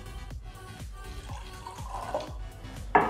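Ordinary tap water is poured into a container for a magic sand experiment. Steady splashing and gurgling run with a rhythmic glugging pulse, close and moderate, ending in a brighter splash and no talk.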